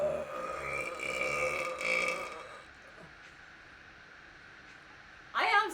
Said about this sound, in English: That was an amazing burp.